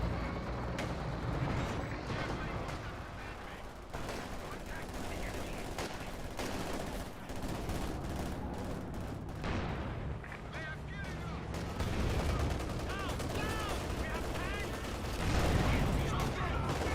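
Dense battlefield gunfire in Company of Heroes 2, rattling small-arms bursts and thuds layered under continuous commentary, with a heavier impact near the end.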